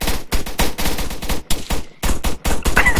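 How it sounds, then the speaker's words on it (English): Rapid bursts of automatic gunfire from a video game, loud and close, in several quick volleys separated by brief gaps, with no talking. "His gun is now firing at itself."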